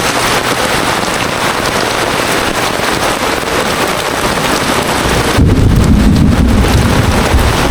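Loud, dense downpour of heavy rain hammering a surface amid flooding, roaring steadily and swelling even heavier near the end.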